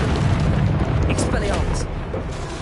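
Confringo fire-blast spell exploding in Hogwarts Legacy on PS5: a dense, loud booming burst that rumbles on for a few seconds amid continuous game combat noise, with a voice calling out over it.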